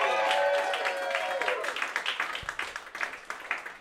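A live audience applauds guest Laura Vandervoort at a talk show taping, with dense clapping that starts over a trailing voice and thins into scattered individual claps.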